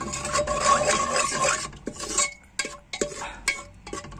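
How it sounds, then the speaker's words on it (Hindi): Spices roast in a pan on a gas stove while a spoon scrapes and stirs them in close, rasping strokes, dense at first and then thinning into a few separate scrapes. "अब थोड़ा सा ना मैं इसको मसालों को भून लूंगी।"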